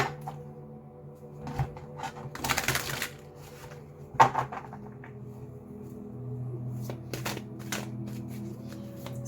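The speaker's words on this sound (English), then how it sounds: "Let's just give the cards a bit of a shuffle." Tarot cards are shuffled by hand at close range in repeated riffling bursts with soft card slaps, over a low steady background hum.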